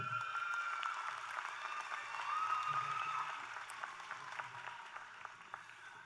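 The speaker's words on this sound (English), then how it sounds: "Let's give these wonderful students another round of applause." A graduation ceremony audience applauds steadily, a dense patter of many hands clapping at moderate distance, fading slightly toward the end.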